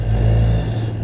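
A motorbike on the move, a loud, steady engine drone with a low throbbing tone and a faint shift in pitch near the end, heard close over brief road rumble.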